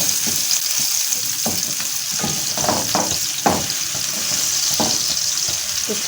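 Onion and a garlic clove fry in hot fat, giving a steady, bright crackling sizzle with soft stirring scrapes and small pops, with no one speaking.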